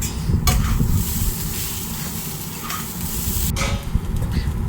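Fried pointed gourd and potato are stirred into rice and spices in a hot pan for muri ghonto, giving a continuous sizzle with scraping, clattering stirring strokes close by.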